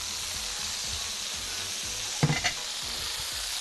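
Shish tawook skewers frying and sizzling in a pan, a steady hiss throughout with a brief cluster of stirring or turning clatter midway.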